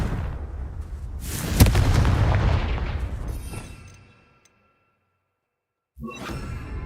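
Confringo spell blast in the video game Hogwarts Legacy, a sudden loud booming explosion that rumbles and fades into silence, followed by a fresh burst of game sound.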